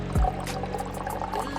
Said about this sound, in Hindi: बहुत कम पानी चल रहा है इसमें से।